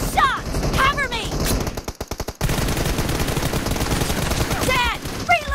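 Rapid automatic gunfire from a PUBG Mobile team deathmatch, loud bursts running almost continuously with a brief gap of single shots, with voices calling out over the shooting.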